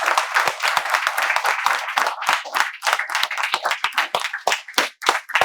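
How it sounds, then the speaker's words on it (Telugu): A class of students claps together in a steady, close burst of applause, sharp hand strikes filling the room with no talking. "మీరు ఈ వీడియో చివరి వరకు చూడాలని మేమందరం మీకు చప్పట్లతో స్వాగతం తెలియజేస్తున్నాం."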